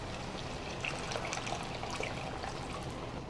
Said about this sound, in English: I'm gonna add some of this cooking water